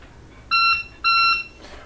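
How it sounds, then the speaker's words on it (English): Engine control panel alarm aboard a Dufour 460 Grand Large sailboat: two loud, steady electronic beeps of about half a second each, separated by a short gap, over faint background hiss. "You will hear an alarm sound."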